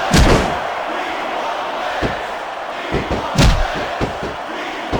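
A capacity arena crowd roars throughout a WWE SmackDown vs. Raw 2006 match on PS2, a constant wash of cheering punctuated by several sharp slams and thuds from the ring.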